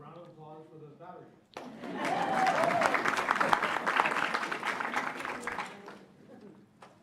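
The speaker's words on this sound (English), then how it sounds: "And a round of applause for those batteries." Audience applause at a school board meeting, a loud burst of clapping and crowd noise that follows a speaking voice, holds steady for several seconds, then tapers off.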